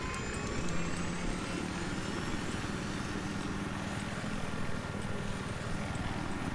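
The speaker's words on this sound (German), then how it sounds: "Ich fliege jetzt die Helikopter mal gucken." Helicopter in the PC game Battlefield 3, a steady dense engine and rotor drone with a faint high whine, continuous and loud throughout with no talking.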